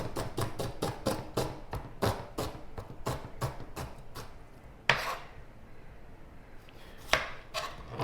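A knife chops an onion on a cutting board in a home kitchen, a quick run of evenly spaced sharp taps that slows, pauses, then resumes with a few louder isolated strikes, close and clear.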